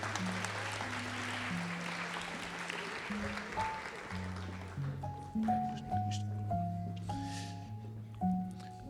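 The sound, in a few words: audience applause as students exit the stage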